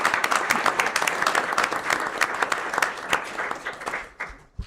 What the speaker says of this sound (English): Please join me in acknowledging our retirees with a round of applause.